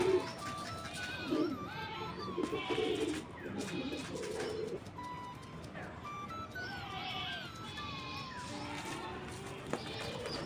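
Pet pigeons pecking grain scattered on the ground, with soft throaty cooing and scattered chirpy calls, close by and moderately loud, while a person talks over them at times.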